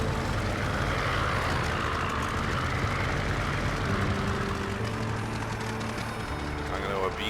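An aircraft engine drones steadily as the plane taxis over the ground in a flight simulator game, a broad continuous rumble with a faint rise in tone near the end; someone talks over it.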